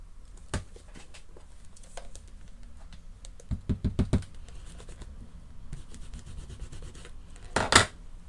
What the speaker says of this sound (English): I'm going to clean my stamps and leave you with that to look at while I do so